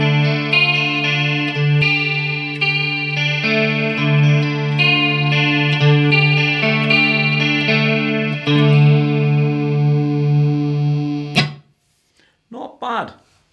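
Electric guitar played through a Marshall CODE amplifier on its DSL clean chorus preset. A sustained shimmering chord rings loudly with repeated picked accents, then cuts off abruptly, followed by a brief voice.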